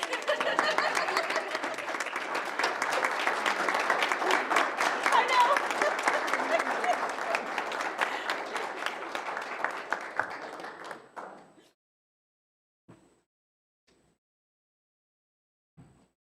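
Applause and clapping in a city council meeting chamber, a steady, moderately loud spread of many hands lasting about eleven seconds before fading out, followed by quiet with a couple of isolated thumps.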